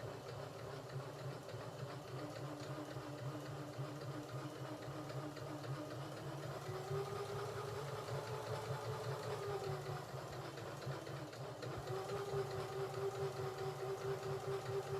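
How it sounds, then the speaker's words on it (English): A sewing machine stitches fabric around a curve without stopping, a steady close mechanical chatter at an even rhythm that shifts slightly in tone partway through. "I'm just going to keep sewing and just gently turn rather than stopping and starting."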